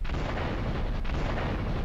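Dense, loud roaring blast from a bomb explosion in the video game GTA III, a sustained broadband burst filling the whole moment.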